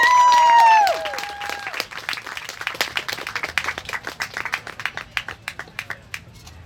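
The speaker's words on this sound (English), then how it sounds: "May I have a big round of applause for Nate?" An audience applauds for speaker Nate Erskine Smith at Burlington VegFest 2023, starting as a single whistle-like tone and growing into a loose, uneven round of clapping that thins out over several seconds.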